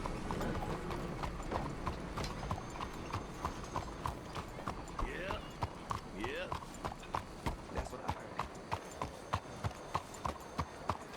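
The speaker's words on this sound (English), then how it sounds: "we'll head on down to the stable, switch out Timberline for one of our other horses." Horse hooves in the Red Dead Redemption 2 video game, a steady rhythmic clip-clop of a walking horse close by, with a couple of brief whinny-like calls and a voice talking over it.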